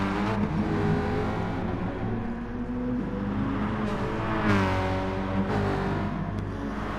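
Renault touring race car engines at Bathurst drone steadily with rising and falling revs and layered harmonic whine, loud and continuous, with no speech over the engine noise.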